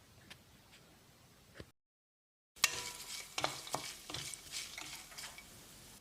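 Cashews, dried red chillies and curry leaves frying in hot oil and being stirred in a pan, a soft sizzle broken by a short silent gap, then louder scraping stirs and crackling.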